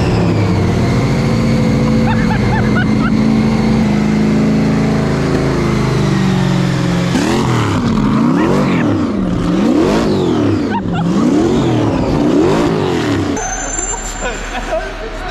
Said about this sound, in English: There's two V8 engines in there.